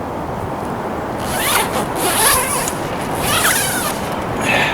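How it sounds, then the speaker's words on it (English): A tent door's double zipper is pulled in several quick, rasping runs, close by and fairly loud, with short pauses between the strokes. "there's a double zipper, so you can actually have these up towards the top"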